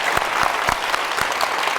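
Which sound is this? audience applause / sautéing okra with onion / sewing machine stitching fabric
audience applause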